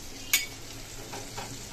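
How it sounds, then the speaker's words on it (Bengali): Pointed gourd and potato fry in a pan with a continuous soft sizzle, broken by one sharp clink of a utensil near the start and quieter stirring scrapes later. "এই যে দেখো, পটল আলুটা ভাজা হচ্ছে।"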